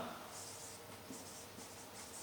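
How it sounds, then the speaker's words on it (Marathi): Pen or marker writing during a chemistry lesson, quick scratchy strokes in short bursts, faint and close, with a low background hum. "मी पहिल्यांदा लिहितो बघा."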